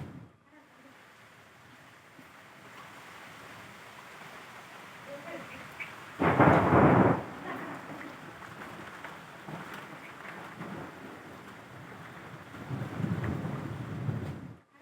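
A thunderstorm with strong wind and rain: a steady wind-and-rain wash is broken by a sudden loud thunder crack midway, and a longer rolling rumble follows near the end.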